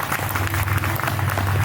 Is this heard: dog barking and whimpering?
no